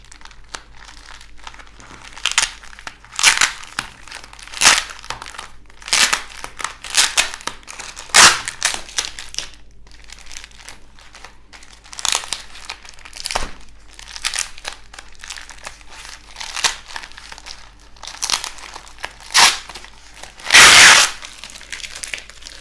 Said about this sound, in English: So now we need to unpack this parcel.